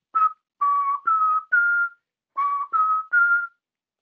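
Close, clear whistling articulated by tonguing, seven sustained notes in two phrases, each starting with a crisp attack and separated by small gaps, moderately loud and alone without speech.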